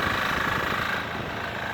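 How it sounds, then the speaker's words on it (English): A modified Sears Suburban tractor with a 6HP diesel engine and altered exhaust runs at a steady, rapid idle, its close, loud, pulsing chug filling the short stretch without speech. "Diesel tractor modified."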